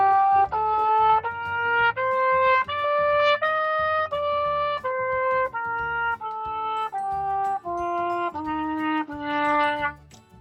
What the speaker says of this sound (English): if I do that on my trumpet, it's going to sound like this